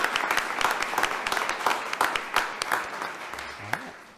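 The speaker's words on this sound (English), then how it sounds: "one more round of applause for our students" A round of applause at a school board meeting for students and teachers: a small group clapping with distinct, sharp individual claps standing out, fairly close, steady before thinning slightly toward the end.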